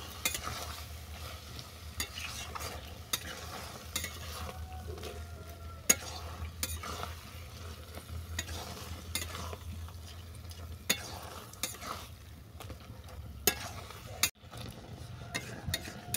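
Taro leaves with prawns, spices and lemon juice mixed together in a frying pan, giving a continuous gentle sizzle punctuated by regular clicking and scraping strokes of a spoon against the pan.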